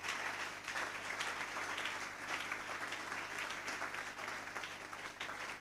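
A church congregation claps and applauds steadily, a dense, even wash of hands from a large crowd that carries on for the whole stretch with no break.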